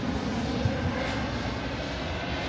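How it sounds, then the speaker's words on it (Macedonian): Loud, steady roar of an airplane engine overhead near an airport, close and continuous throughout, with no talking. "близко до аеродромо и затоа фрче авиони"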